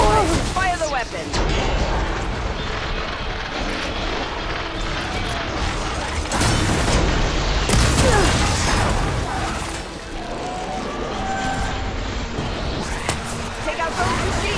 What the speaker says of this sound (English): Take out those machines with that cannon!